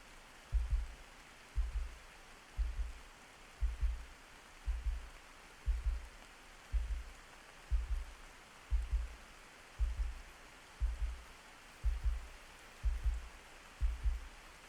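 A soft ASMR trigger sound imitating a heartbeat gives low, muffled thumps in a steady rhythm of about one per second, heard over a faint background hiss.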